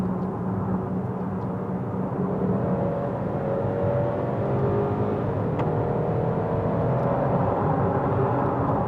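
A 2020 Mercedes-Benz GLC 300 engine revs as the driver downshifts, giving a loud, continuous drone whose pitch climbs and shifts over several seconds, with no talking.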